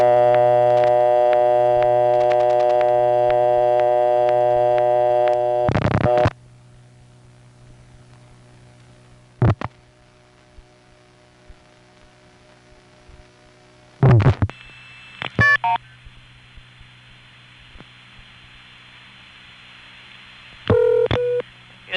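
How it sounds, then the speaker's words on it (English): Old Bell System step-by-step telephone exchange from 1979, heard on a call to 411. A steady dial tone and hum fill the opening, followed by a few brief separate tones with a sharp click and tone bursts later on. "Now notice right after I dial 411, you'll hear 3 tones."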